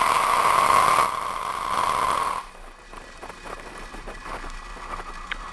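SpaceX rocket engines roar at liftoff for a German military satellite launch in California: a loud, dense broadband rumble for about two seconds, then a sudden drop to a quieter crackling rumble.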